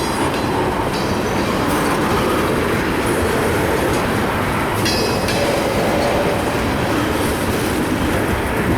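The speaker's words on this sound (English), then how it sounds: "And there you have it for q317-09 westbound empty mixed freight train." A CSX westbound empty mixed freight train rolls past close by, loud steady wheel rumble and clickety-clack with brief metallic squeals, continuous for the whole stretch without speech.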